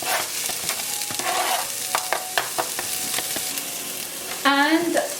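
Food sizzles in heated oil in a pan while fettuccine is being cooked, with soft stirring and clinking of utensils throughout, fairly quiet and close.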